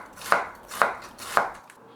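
A knife chops on a wooden cutting board in a home kitchen, likely through lettuce or other vegetables, giving three evenly spaced, crisp knocks with no talk over them.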